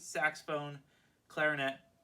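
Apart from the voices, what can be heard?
No everyday noises stand out.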